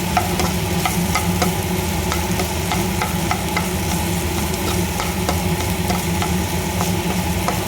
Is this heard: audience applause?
no